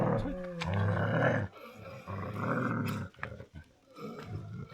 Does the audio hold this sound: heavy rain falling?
no